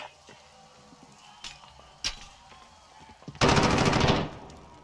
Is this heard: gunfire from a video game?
yes